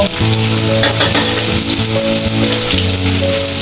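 Onion and green chilies fry in hot oil for a pumpkin bhaji, giving a steady, loud sizzle throughout with background music tones layered over it; no one speaks.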